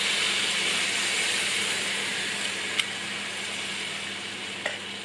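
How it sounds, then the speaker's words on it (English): Hot syrup poured over freshly baked baklava sizzles with a loud, steady hiss that fades slightly, broken by a couple of small clicks, with no talking. "Listen to that sizzling noise."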